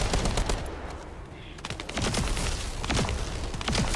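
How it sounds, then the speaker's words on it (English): Thunder cage ability explosions in The First Descendant, a rapid burst of sharp crackling blasts and booms, loud and repeated, with combat noise around them. "Someone's using the thunder cage. You can tell because of the sound of the explosion."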